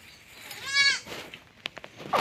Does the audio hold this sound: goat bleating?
yes